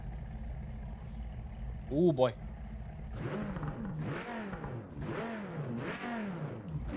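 A race car engine in a racing video game revs in repeated rising and falling surges, loud and close, after a brief spoken exclamation at the start.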